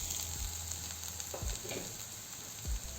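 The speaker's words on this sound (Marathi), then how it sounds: "यात बारीक केलेले आलू घालू" Mashed potatoes go into a hot pan of sizzling oil while making aloo bonda, a steady fry hiss broken by a few soft scraping stirs close up, no voices.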